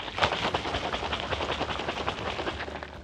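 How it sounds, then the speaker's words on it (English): A plastic bottle of silage additive mixed with water being shaken vigorously, a rapid rhythmic sloshing and rattling that continues for about three seconds, close up. "Give it a good shake."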